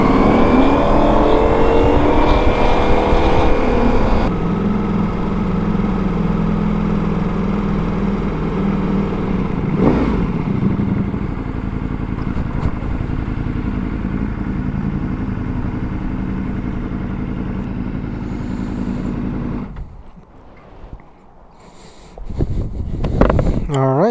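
A motorcycle commuting through Las Vegas streets: a loud, continuous engine drone with wind rush that holds steady, then drops sharply near the end before a short rise again.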